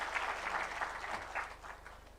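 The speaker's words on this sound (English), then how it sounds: "Let's clap for them as we start this conversation." Scattered audience applause at a constitution day symposium hall in Nairobi, moderately distant claps that thin out and fade toward the end over a low electrical hum.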